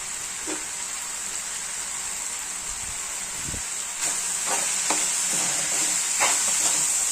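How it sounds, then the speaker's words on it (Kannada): Sprouted moong dal stir-fry being stirred in a pan over medium heat, a steady sizzle and hiss with scattered scraping strokes of the spoon, close and fairly loud throughout. "ಮೀಡಿಯಮ್ ಉರಿ ಇಟ್ಕೊಂಡು ಚೆಂದ ಕೆಳಗೆ ಮೆಗ ಮಾಡ್ಕೊತ ಇದನ್ನು ಮಿಕ್ಸ್ ಮಾಡೋಣ"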